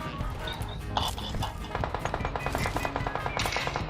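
Rapid automatic gunfire from a PUBG Mobile match rattles in steady, close bursts through most of the stretch, over dense in-game ambience.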